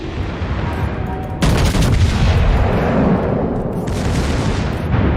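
Secondary guns of a battleship in World of Warships fire in dense, overlapping volleys, a loud rumbling barrage of booms that continues without pause and thickens midway.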